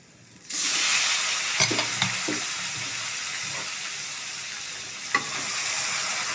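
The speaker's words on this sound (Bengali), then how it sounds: "এখন আমি মাংসগুলো দিয়ে দিব।" Meat dropped into hot oil in a pan for a dark browned bhuna curry, bursting into a loud steady sizzle after a quiet start, with a few clattering stirs and knocks from a spoon over the hiss.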